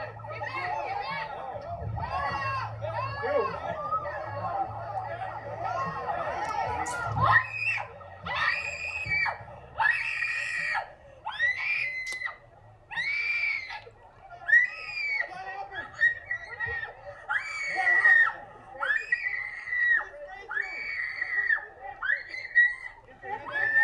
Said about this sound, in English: She just started screaming.